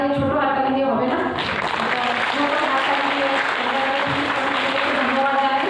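Audience applause at a puja celebration in Chandannagar, a steady, dense wash of clapping running throughout, with a voice or music carrying over the top.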